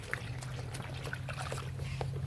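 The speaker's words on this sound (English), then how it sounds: "now I'm going to go to my hose bib and rinse this off." Water from an outdoor hose bib rinsing a Spectre air filter, a faint uneven splashing and trickling over a low steady rumble.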